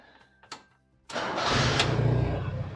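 A car engine starts up after a mechanical repair: a few clicks and a brief crank, then the engine catches and settles into a loud, steady rumbling idle nearby.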